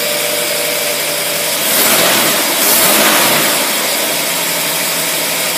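A small Carter marine boat engine running lean and too fast sounds unhealthy at a high, buzzy pitch, rising briefly in the middle as if revved, with no talking.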